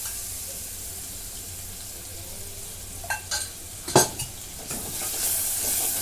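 Oil skimmed from a simmering chicken gravy poured into a hot pan for a Maharashtrian chicken curry, with a quiet steady sizzle and a few sharper spatters and clinks of stirring partway through.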